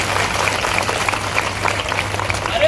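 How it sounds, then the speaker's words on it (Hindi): Steady, even clapping from a crowd at a beneficiaries' conference in Ashoknagar, a continuous moderate patter with no voices standing out. "अरे ताली बजाओ उसके लिए"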